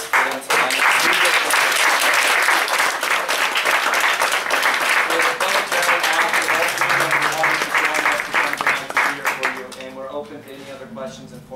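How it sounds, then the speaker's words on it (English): An audience at an NGO best-practices Q&A event in Romania breaks into loud, sustained applause that fills the room, dense clapping holding steady before thinning out toward the end. "can we give a round of applause, please, for them to thank us?"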